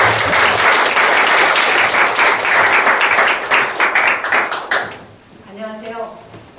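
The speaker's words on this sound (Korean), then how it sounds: "박수로 맞아주시면" An audience in a lecture hall breaks into loud, sustained applause to welcome a speaker at a KAIST colloquium, the clapping fading out near the end as a voice begins.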